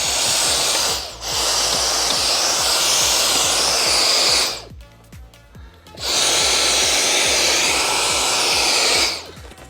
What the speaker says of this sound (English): I am gonna get the hoover in and just have a little clean around some areas.